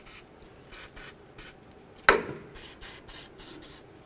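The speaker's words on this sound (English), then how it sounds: "Let's go ahead and spray down this area with some penetrant spray." Short bursts of penetrant aerosol spray hiss in a steady rhythm onto an inner tie rod area of a 1988-2000 Chevy C/K1500, about a dozen quick sprays, with one sharp clack in the middle.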